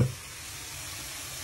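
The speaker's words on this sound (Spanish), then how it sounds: "una vez ya todo picado, lo vamos a sofreír" Chopped vegetables sautéing in a pan for rice with longaniza, giving a steady, close sizzling hiss with a short stir at the start.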